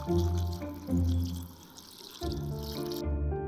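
Chinese clear liquor is poured over fresh crabs after an ice-water soak, a steady splashing pour with liquid trickling, under soft background music, close and moderately loud.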